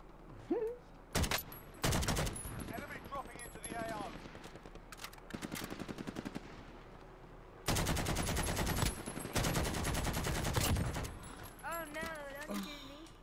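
AK rifle fire in a video game, loud bursts of rapid automatic shots in several long volleys, with voices talking over and between them.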